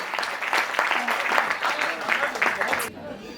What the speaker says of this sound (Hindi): जोरदार तालियों के बीच में पार्थ नवीन